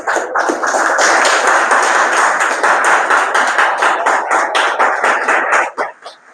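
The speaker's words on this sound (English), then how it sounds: "can you give a round of applause for them again?" Loud, close applause from a small audience at an outdoor environmental education event, sharp individual claps blending into a steady round that thins out and stops near the end.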